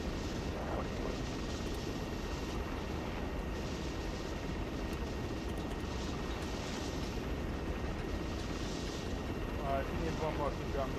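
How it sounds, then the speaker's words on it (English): A helicopter in the video game Arma 3 gives a steady, dense rotor and engine roar that fills the whole clip at an even loudness. "getting to slam the helicopter just fucking straight down and just fucking accelerate like a psychopath"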